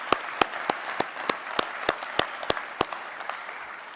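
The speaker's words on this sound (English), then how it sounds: "so please give them a round of applause." Steady, sparse clapping from a small group at a technical college commencement in a performing arts center, sharp individual claps at an even rhythm, heard alone without talk.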